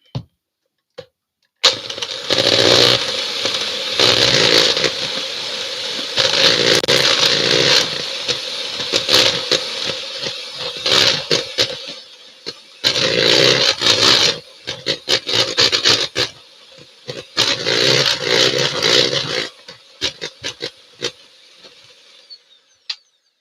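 An electric hand mixer whisks buttercream in a home kitchen while cupcakes are being made, its motor whirring loudly and close in long bursts that stop and restart several times.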